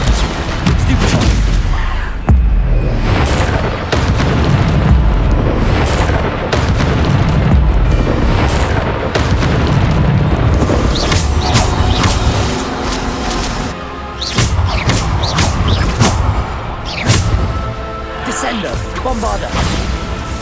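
Booming spell explosions from Hogwarts Legacy's Bombarda charm go off repeatedly amid loud, dense game combat, with a voice talking over the blasts throughout.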